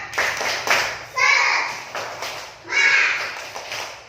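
A group of children in a classroom doing tepuk semangat, a rhythmic spirit clap, with bursts of claps mixed with young voices chanting along, fairly close and lively.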